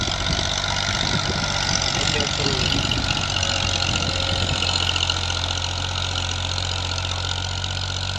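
A 1979 Massey 240 tractor engine runs steadily at close range, a continuous low rumble with a mild knock, giving off heavy smoke and suspected of a fuel pump problem while pulling a nine-tine cultivator; a voice is briefly present early on.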